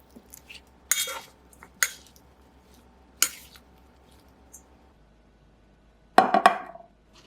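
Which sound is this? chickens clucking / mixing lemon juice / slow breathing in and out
mixing lemon juice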